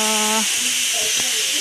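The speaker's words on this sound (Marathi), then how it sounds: "आय होप तुम्हाला कुकरच्या शिट्टीचा काही त्रास होत नसेल." A pressure cooker lets off steam in a loud, continuous hiss that fills the clip, with a voice talking briefly over it.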